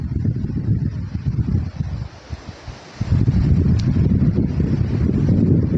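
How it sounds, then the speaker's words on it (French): Strong gusts of wind buffet the microphone outdoors, a deep roaring rumble that eases briefly midway and then returns louder and steady, with no talking. "Voilà, comme par exemple ce vent."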